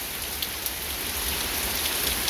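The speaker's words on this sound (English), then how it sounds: "It's just raining." Steady rain patters on surfaces nearby, a dense even hiss with occasional louder drops and no voices.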